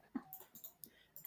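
Faint, high dog whimpers and small yips come in a few quick bursts, somewhat distant and quiet.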